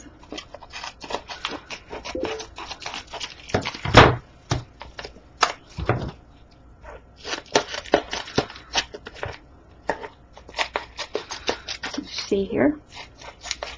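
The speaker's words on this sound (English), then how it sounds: "now I'm just going to snip off the excess" Scissors snipping off the excess etched glass transfer sheet, a series of short, close cuts and rustles in irregular bursts, with a person speaking briefly.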